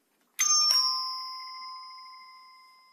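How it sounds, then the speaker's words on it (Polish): Orno QUARTO AC 230V wired doorbell ringing with two quick chime strikes, followed by a clear, bright tone that rings out and slowly fades over a couple of seconds in an otherwise silent room. "Sam dźwięk dzwonka prezentuje się w ten sposób."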